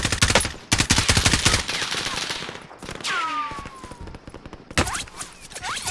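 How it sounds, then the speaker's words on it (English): Rapid automatic gunfire in the video game Warzone, loud, close bursts of shots in quick succession with brief gaps, an enemy player firing during a fight, with whooshing effects mixed in. "For some reason, this guy wants to shoot at me instead of anybody else."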